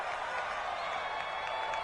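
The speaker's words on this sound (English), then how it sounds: "the crowd getting into it as we come up on a big third down" Steady crowd roar and cheering in an American football video game on PS4, building ahead of a big third down; a continuous broadband wash of noise, fairly loud and even throughout, with no clear individual voices.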